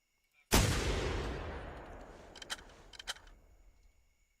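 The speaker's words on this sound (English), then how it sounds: "Let's see if I heard that gun." A single loud gunshot in the game theHunter: Primal, a sharp crack followed by a long, fading rumble, with a couple of faint clicks as it dies away.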